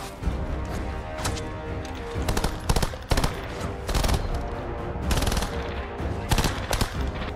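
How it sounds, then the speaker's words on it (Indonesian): Machine gun fire from a war film: repeated loud bursts of automatic gunfire in several clusters, with crashing impacts between them over a continuous noisy battle backdrop. "Tak lama dari itu, Roka mulai menembaki musuh, dan Joko mengisi peluru ke mangkuk amunisi cadangan."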